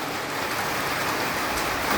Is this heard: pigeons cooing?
no